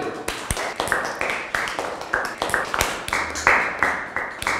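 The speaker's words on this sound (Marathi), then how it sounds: "अरे टाळ्या तर वाजवा की" Students in a classroom clap, giving a loose run of sharp, irregular hand claps at moderate volume for several seconds, with faint murmuring underneath.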